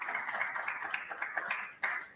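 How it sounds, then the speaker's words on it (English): An audience at a food expo in Zambia applauds sponsors and exhibitors, a thin, steady patter of clapping hands with a sharper burst near the end. "I would like us to give a round of applause to our sponsors and all you exhibitors for making this possible"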